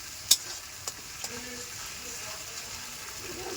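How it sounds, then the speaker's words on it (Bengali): Masala spices sautéed in a pan for a spicy red potato dum give a steady soft sizzle, with a sharp metallic clink from the spoon near the start and a few lighter taps after. "ভালো করে কষিয়ে নিলাম"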